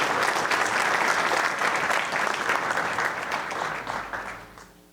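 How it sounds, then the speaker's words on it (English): An audience applauds students at a career and technical education awards ceremony, a loud, dense burst of clapping from many hands that gradually fades toward the end. "So how about one more applause for our students and Mr. Ned."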